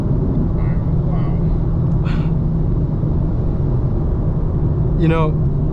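A 900 HP 2025 BMW M4 Competition xDrive holds a constant low engine rumble from inside the cabin at night, while someone talks intermittently over the drone.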